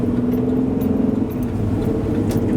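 Steady engine hum and road rumble inside a Chevrolet Express van on a short drive, a continuous low drone with faint rattles and clicks on top, no one speaking.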